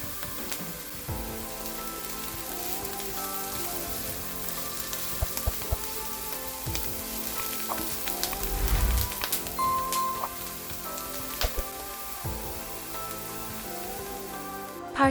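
Garlic added to onions frying in a pan for a ground meat dish sizzles steadily and close, a dense crackling hiss with scattered pops over the whole stretch.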